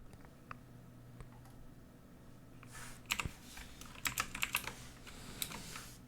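Rapid clattering keystrokes on a computer keyboard, coming in quick bursts over low background hum, with quiet stretches between and the densest tapping in the second half.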